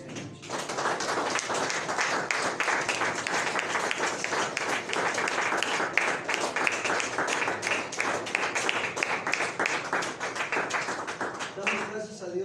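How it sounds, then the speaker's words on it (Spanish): A church congregation at an evening service applauds steadily for about twelve seconds, a dense wash of clapping with occasional thumps. "pueden dar un aplauso al Señor esta noche?"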